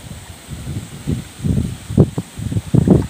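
Wind gusts outdoors beside a road during cast-net fishing, buffeting the microphone in uneven, rumbling low bursts that swell and fade over a constant hiss.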